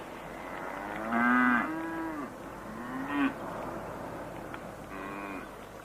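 A cow moos on a farm, several drawn-out lowing calls at moderate distance, the first longest and loudest, with quieter moos following over soft background noise.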